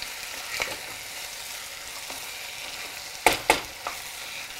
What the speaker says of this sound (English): While the tomatoes are cooking